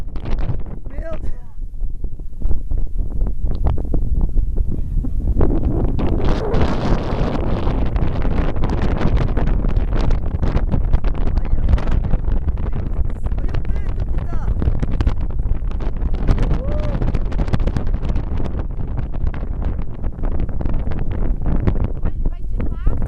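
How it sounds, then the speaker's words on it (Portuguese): Strong wind roars continuously against the microphone in loud, buffeting gusts, a dense low rumble that fills the whole stretch. "ó o barulho do vento"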